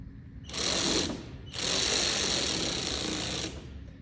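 A power driver tightens Ark splash guard fasteners on a 2021+ third-generation Ford Raptor. It gives two close, whirring mechanical bursts, a short one and then a longer one, with no talking.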